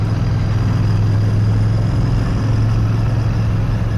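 A Royal Enfield Bear motorcycle rolls slowly through town, its engine giving a steady, low, throbbing drone close by, holding an even pitch with no talking.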